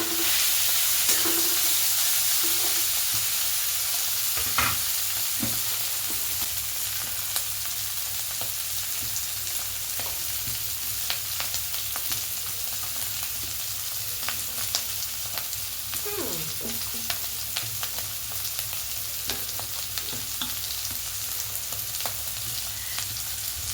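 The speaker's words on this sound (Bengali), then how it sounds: "এখানে নুন, জিরে গুঁড়ো, ধনে গুঁড়ো, গুঁড়ো মরিচ আর হলুদ গুঁড়ো, এগুলো সব দিয়ে এটা ভালো করে কষানো হচ্ছে।" A potato, onion, garlic and green chili masala stir-fries in a pan with salt and ground cumin, coriander, chili and turmeric, giving a steady, close sizzle with scraping stirs and no talking.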